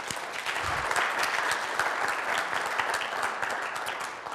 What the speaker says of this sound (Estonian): Suur aplaus sellele väiksele meeskonnale